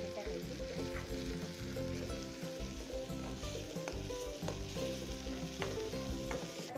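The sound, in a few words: masala frying in oil for Vam fish curry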